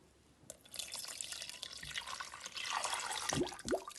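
650 g of water pouring steadily into a Thermomix bowl of blended pumpkin, a gushing splash that builds and then ends with a couple of sharp drips and clunks.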